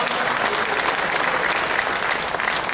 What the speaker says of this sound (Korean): 다시 한번 영광의 박수 올려드립니다